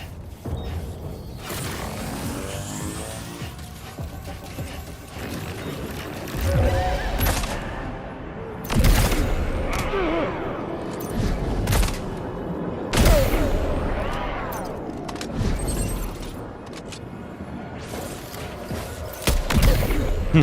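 Scattered gunfire in the video game Death Stranding 2, with several sharp shots and heavy booms spread irregularly among mechanical clanks and creaks, near and fairly loud.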